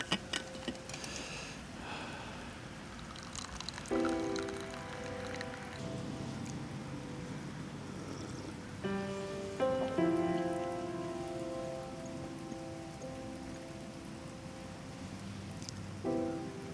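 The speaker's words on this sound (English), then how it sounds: "As the rain continued to fall" Steady rain falling across open grassland, a soft continuous patter with occasional brighter drips and faint tonal ticks in the background, no voices.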